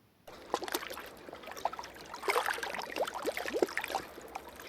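Water gurgles and splashes softly, with gentle sloshing and dripping like a boat moving through calm water, fairly quiet and steady.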